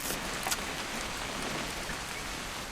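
Steady rain falls in the video game What Remains of Edith Finch, a dense, even hiss of drops with one brief brighter splash near the start.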